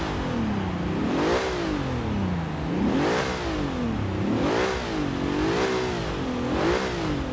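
A 900hp Bentley Bentayga in the Forza Horizon 3 racing game, its engine revving repeatedly in rising and falling waves, loud and steady throughout with no voices over it.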